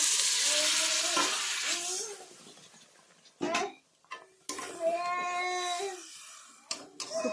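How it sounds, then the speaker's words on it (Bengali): Spice-washing water is poured a little at a time into hot oil with aubergine for a bengali teljhal, a loud hiss fading away, then further bursts of sizzling and clattering utensils, with voices and a tonal sound in between. "ওর মধ্যে মশলা ধোয়া জলটা অল্প করে দিয়ে দিচ্ছি।"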